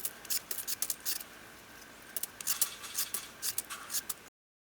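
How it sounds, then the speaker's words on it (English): Potatoes being peeled by hand in a home kitchen for homemade wedges, a series of quick, close, scraping strokes in an irregular rhythm with short pauses, no talking. "So the first step is to peel your potatoes."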